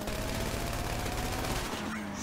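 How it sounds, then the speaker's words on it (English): Rapid, sustained automatic gunfire during a Grand Theft Auto 5 firefight, dense and loud for about two seconds before trailing off. "Don't take out the guy that's shooting me."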